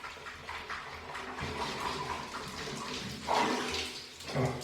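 Shower water runs steadily as a broadband hiss, with louder splashing bursts near the end as the stream is disturbed.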